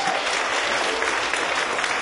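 An audience at a spiritual lecture applauds, a dense, even wash of many hands clapping at once, loud and sustained throughout with no distinct voices.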